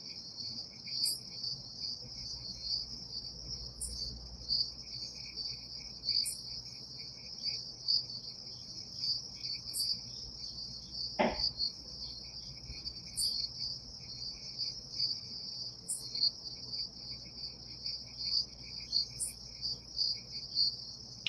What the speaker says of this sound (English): the only sound you hear are the bugs